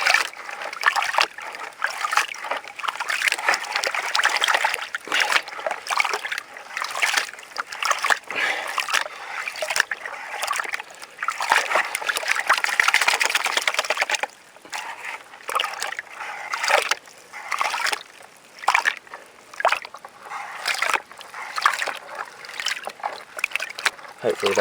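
Gravel is panned in water for gold at a creek in central Victoria, giving close, repeated sloshing and splashing swirls with brief pauses, while someone talks now and then over the water.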